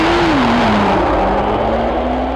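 A 2012 Nissan GT-R powers away from a standing launch-control start, its engine note loud and close, a steady whining tone dipping then climbing as it accelerates, with no speech.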